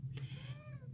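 A house cat gives a single drawn-out meow, close and fairly soft, over a low background hum.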